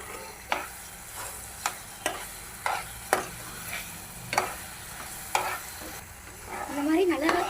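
Bread halwa sizzles in ghee in a pan while a spoon stirs it, with crisp scraping strokes landing about once a second over a steady frying hiss. A brighter burst of bubbling rises at the end.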